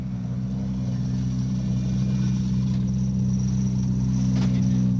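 A rally car on an asphalt stage of the Tour of Epynt rally eases past nearby. A low, steady engine drone holds evenly throughout with no talk.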